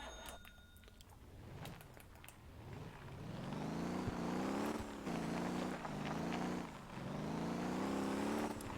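Video game car engine in Motor Town on an offroad trail, revving up from idle into repeated rising pulls, with each gear climb dropping back briefly before surging again, loud and close.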